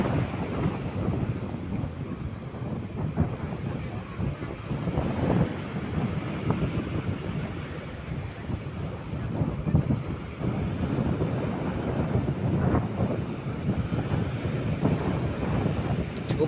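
Strong wind buffets the microphone by a shallow river mouth where big waves keep fishermen ashore, a continuous low roaring rumble with surging gusts and surf, no speech.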